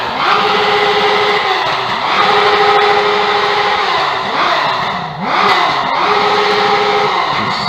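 A crowd of motorcycles at a Café com Motos meetup in Sinop, engines idling and revving continuously up close, loud rising and falling tones with overlapping passes and no clear speech.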